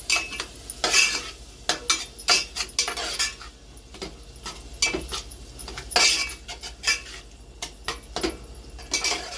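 A utensil scrapes and clinks against a pan as modak filling is stirred over a low flame, with irregular close strokes and a faint sizzle underneath.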